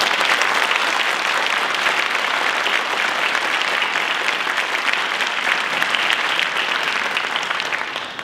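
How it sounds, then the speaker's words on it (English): Sustained applause from a room full of attendees at a first responders awards event, a thick wash of clapping that holds steady for several seconds and tapers slightly at the end, with no speech. "Let's give them all a round of applause for all they do for our community."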